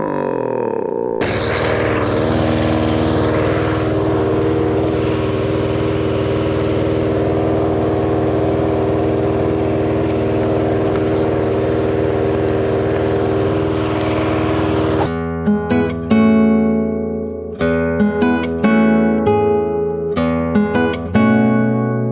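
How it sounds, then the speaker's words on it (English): A lawn mower engine runs close by at a steady, loud drone for about fifteen seconds, then cuts off and gives way to a series of plucked musical notes. "I hate mowing the lawns."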